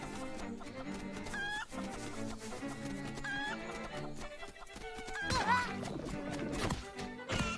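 A chicken clucks in The Legend of Zelda: Link's Awakening on Switch, its short squawks rising above steady game music that swells louder toward the end.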